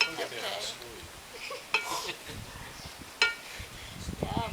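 Food is stirred with utensils in a bowl during a children's lunch workshop, with soft scraping and a few sharp clinks of cutlery against the dish, mixed with nearby voices.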